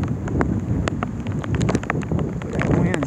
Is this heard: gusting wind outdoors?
yes